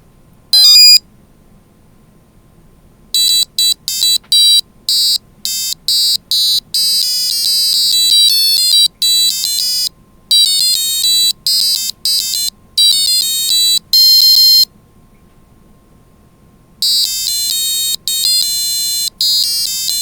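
A W65C265S microcontroller's tone generator sounds after a reset, producing loud, bright electronic beeps in repeated bursts of varying length separated by silences, with a faint low hum underneath and no voices.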